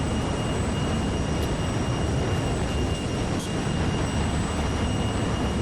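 A jet's afterburner roars without letup in a flight simulator game, a dense, loud, unbroken rush that never varies in level.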